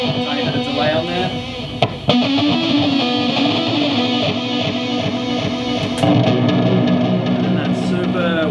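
Peavey amp driving an electric guitar lead with the amp's own gain overdrive and a touch of delay, sustained distorted notes and bends playing continuously at steady loudness with no talking.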